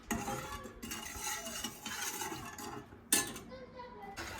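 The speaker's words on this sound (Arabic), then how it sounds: "ما خصكمش توقفوا يدكم من التحريك" Continuous stirring of milk in a metal pot, with a spoon scraping and clinking against the metal in a steady rhythm, one sharper knock near the end, and faint voices.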